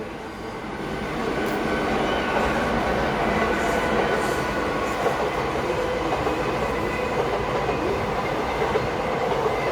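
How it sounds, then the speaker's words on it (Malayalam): A metro train passes on an elevated line in Kerala, its rumble swelling within the first couple of seconds into a loud, sustained roar of wheels and carriages that holds steady to the end. "മെട്രോയും നമുക്ക് വേണ്ടിയിട്ട് എപ്പോഴും ഇങ്ങനെ ഓടിക്കൊണ്ടേയിരിക്കുന്നു."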